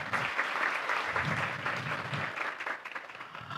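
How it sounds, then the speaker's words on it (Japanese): Audience applause at a PyCon JP 2017 conference talk on machine learning data reproducibility, a steady dense clapping from a room of listeners that continues throughout and thins slightly near the end. "皆さん拍手お願いします。"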